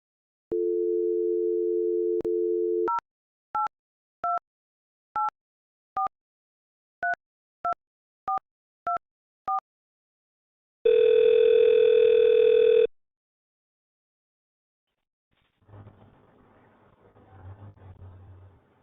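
A steady VoIP softphone dial tone, then a run of short beeping key tones as a second line dials out, a loud ringback-like buzz, and faint rumbling at the end.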